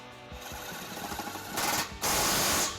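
A 15 mm socket wrench tightens U-Haul trailer hitch bolts on a 2016 Dodge Grand Caravan, giving rapid mechanical ratcheting in short bursts that grow louder and more sustained toward the end.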